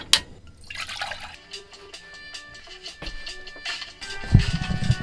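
Water boils with soft, irregular bubbling and popping, faint and close, with a brief thump near the end and no talk.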